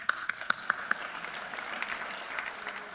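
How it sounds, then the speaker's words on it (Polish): Comedy roast audience clapping at a Polish stand-up show, opening with several sharp, distinct claps in an even rhythm that fade into a softer, looser patter of applause. "Brawa."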